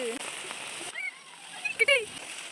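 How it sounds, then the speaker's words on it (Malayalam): Steady hiss of heavy rain pouring down, with splashing, while voices speak intermittently over it. "നല്ല മഴയുണ്ട്"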